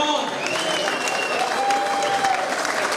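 Applause from a boxing crowd after a contest between Jamie Paine and Danny Smith, a dense, sustained clapping that fills the hall, with a voice talking over it.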